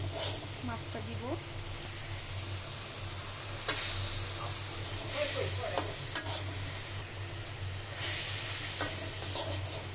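Fish frying in spiced oil in a pan as it is stirred, a steady soft sizzle with occasional scraping stir strokes, while a voice talks faintly over it.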